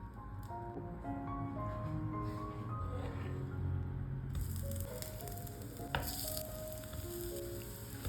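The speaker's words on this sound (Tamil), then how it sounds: "லைட்டாக கீ ஊற்றிட்டு நம்ம 2 பக்கமும் குக் பண்ணி எடுத்து வச்சுக்கலாம்" Dosa batter topped with vegetables fries in ghee on a pan with a continuous sizzle under soft background music, and a brief scrape partway through.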